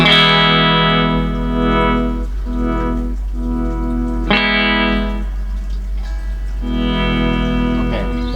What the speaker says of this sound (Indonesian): Oke, potensio volume dia nggak kresek-kresek, artinya itu potensio normal.